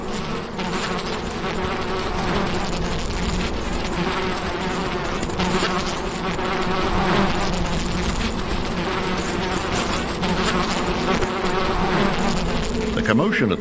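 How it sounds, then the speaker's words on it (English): A dense swarm of male desert bees in the Sonoran Desert mobs emerging females, giving a loud, continuous close buzzing drone that holds steady throughout. "The commotion at the bee site is a magnet to predators."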